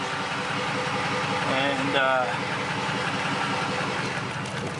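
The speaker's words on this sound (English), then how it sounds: "This is what it sounds like. It's just a Magna Flow exhaust right there." A truck fitted with a newly welded-in Magna Flow exhaust idles steadily nearby with a low, even rumble, while someone talks briefly over it.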